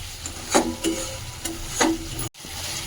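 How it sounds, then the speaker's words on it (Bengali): Spice paste for a bhetki fish curry fries in oil with a low, steady sizzle, broken by a few soft scraping strokes of a spatula, close and without talk. "মশলাটা ভাজতে ভাজতে একটা তেল উঠে আসবে"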